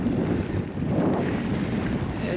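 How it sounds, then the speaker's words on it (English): Strong headwind roaring across the microphone of a cyclist riding flat open Australian country, a loud, steady low buffeting rush with no break. "a strong headwind at that"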